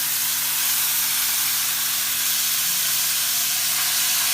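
Half a kilogram of beef keema fries in oil with sautéed garlic, giving a steady, dense sizzling hiss that stays loud and constant throughout, close up, with a low hum beneath it.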